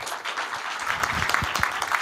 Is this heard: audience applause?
yes